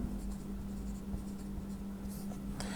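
Pen scratching on paper while a geometry proof construction is written out, faint soft strokes and taps near a quiet room hum, with no talking.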